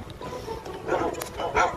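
A dog in a video game barks a few times, short bursts standing out over a steady game soundscape, moderately close and fairly quiet.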